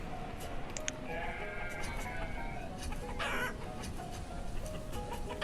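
Chickens clucking and calling in the Banished video game, a scattered run of bird calls over a steady game background, fairly faint with a brighter burst midway and no talking.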